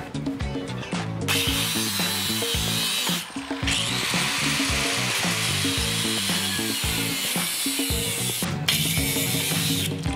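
A power tool cuts the small fuse box mounting tabs on a 1986 BMW K100 motorcycle frame, giving a loud, close, rapidly pulsing grinding rattle that runs continuously.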